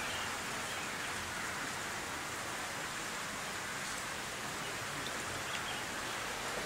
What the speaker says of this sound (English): It's a rainy day, so perhaps that's a good thing, so we can miss the rain